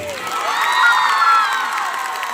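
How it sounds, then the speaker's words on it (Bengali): An audience at a live show in Serampore roars with cheering and shouts, a dense sustained crowd noise that rises and then holds, with whoops standing out. "তারপরে শ্রীরামপুর সবাই মিলে একটা জোরে হাততালি হয়, আমরা হাততালি চাই।"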